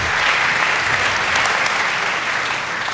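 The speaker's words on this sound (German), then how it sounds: "ja, Sie dürfen ruhig klatschen." A lecture audience at a public university talk on the Higgs particle breaks into warm, even applause, a thick wash of clapping that holds steady throughout.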